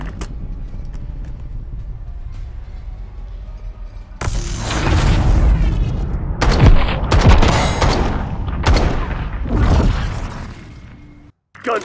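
Gunfire in a Black Ops 6 online gunfight, with loud bursts of shots, booms and busy game noise over a steady rumbling bed, cutting off abruptly near the end.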